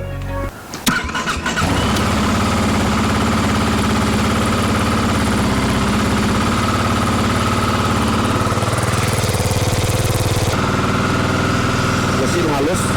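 A motorcycle with its stock exhaust, at 12,000 km on the clock, starts up and then idles steadily: a loud, close, continuous engine drone that runs to the end of the recording without anyone talking.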